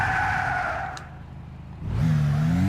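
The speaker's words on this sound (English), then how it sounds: "It makes a screeching sound because they break up. Like, they lock up and they skid." Tires screech and skid as a front-wheel-drive car brakes hard with anti-lock brakes off in Gran Turismo 6, a loud squeal that drops away briefly before the engine note rises again with a rising rev.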